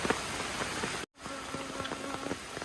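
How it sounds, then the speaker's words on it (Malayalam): Steady light rain patters on a surface, a soft continuous hiss with a brief dropout partway through. "അടിപൊളി മഴ പെയ്തുകൊണ്ടിരിക്കുകയാണ്."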